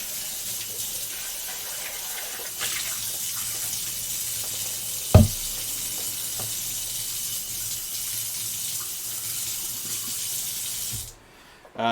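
Tap water runs steadily over peppers in a kitchen sink while breakfast hash is prepared, a continuous close splashing broken by one brief knock near the middle, then the flow cuts off at the end.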